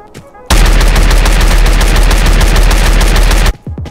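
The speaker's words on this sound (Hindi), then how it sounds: "बट अब लास्ट तक भी गोली चल रही थी" Sustained automatic gunfire from the video game Free Fire MAX rattles loudly in one unbroken burst of about three seconds, with quieter game sounds just before and after.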